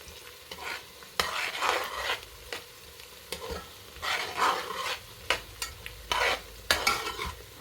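Onions frying in a pan for mutton curry, stirred with repeated scraping strokes over a soft continuous sizzle, close and rhythmic, with no speech.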